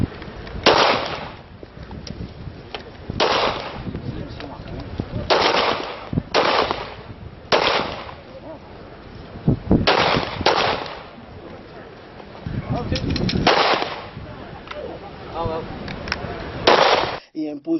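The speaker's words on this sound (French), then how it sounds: "démonstration de tir." Repeated bursts of gunfire ring out at a police academy shooting demonstration, loud sharp volleys coming in clusters with short gaps across the whole stretch.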